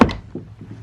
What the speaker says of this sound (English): you pull it up this high and then it slams It comes down